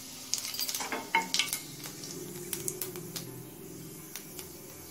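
A spoonful of black cumin seeds hits hot mustard oil in a pan, giving a soft, close sizzle with light crackles and a few spoon-against-pan clinks, with no talking.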